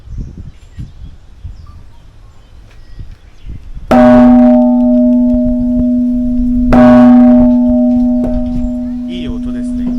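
A large bell at the Hoshino Resort Aomoriya grounds in Aomori is struck twice, each strike a loud, deep ringing tone that hums on and sustains, with faint birds and outdoor ambience before the first strike.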